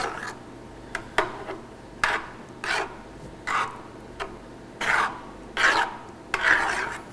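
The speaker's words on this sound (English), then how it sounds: "the butter and the cream will melt. So keep stirring." Melting butter and cream stirred in a pan for asparagus subzi, with repeated rasping scrapes of a spoon against the pan base in an irregular rhythm, close and fairly loud.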